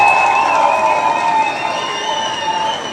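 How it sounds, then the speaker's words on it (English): A crowd cheers and claps at the close of a show, a loud sustained roar of voices with high whistling tones and scattered clapping that slowly fades slightly. "you all deserve a round of applause"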